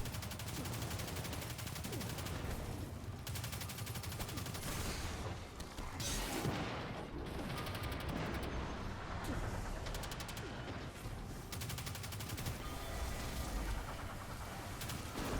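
Gunfire in the video game Destiny, dense sustained automatic shooting and energy-weapon fire mixed with game effects, continuous and fairly faint throughout.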